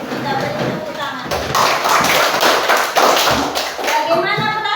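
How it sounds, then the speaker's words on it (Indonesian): An audience of children claps in a dense, continuous burst of applause, close and loud throughout, with some voices mixed in. "Kita beri tepuk tangan."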